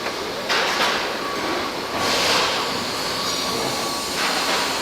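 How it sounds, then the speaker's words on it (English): Electric motor of a bottoming machine running steadily, a loud continuous whirring hum with slight surges, no voices. "Let the motor warm up a little bit"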